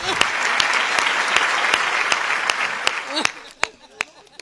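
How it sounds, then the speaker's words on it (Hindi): An audience at a Hindi comic poetry gathering claps in a dense burst of applause that thins out toward the end into a few scattered, separate claps. "ताली अभी भी कमजोर है आपकी"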